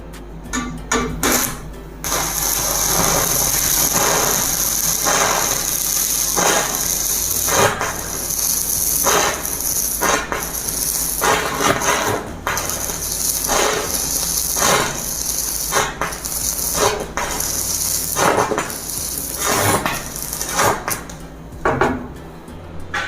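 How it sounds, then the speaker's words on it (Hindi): Arc cutting with a No. 10 welding electrode on a Shakti all-in-one 400 amp welding machine set to 200 amps, a loud continuous crackling hiss broken by frequent sharp pops and short gaps, near and sustained with no talk. "अभी हम 10 नंबर वेल्डिंग इलेक्ट्रोड यूज़ करके देखते हैं। एम्पेयर को हमने 200 पे रखा है और इसमें भी हम कटिंग ही करेंगे"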